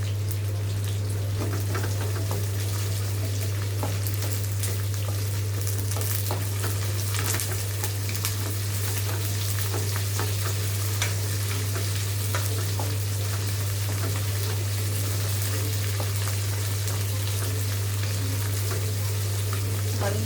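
Onions frying in a pan for mango pulihora, a steady dense sizzle and crackle with occasional stirring scrapes, continuous and fairly close throughout.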